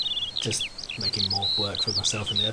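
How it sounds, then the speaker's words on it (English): A skylark sings in the woods, thin, rapid warbling trills and whistles running continuously in the background while someone talks over it in the foreground. "that is the sound of a skylark in the background"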